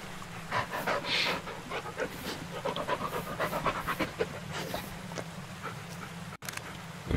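A dog pants rapidly and continuously close by, quick rhythmic breaths carrying on for several seconds with no speech.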